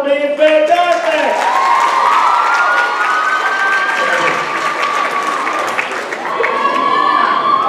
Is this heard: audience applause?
yes